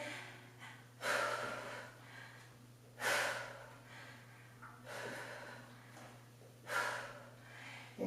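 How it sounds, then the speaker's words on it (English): Heavy exhalations during a full-body functional workout with weights, four loud breathy bursts spaced about two seconds apart over a steady low hum, with no talking. "Make sure you're breathing."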